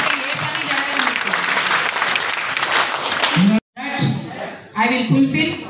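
An audience at an Inner Wheel Club installation ceremony in Miryalguda claps loudly and steadily for several seconds, then breaks off abruptly as a voice begins speaking.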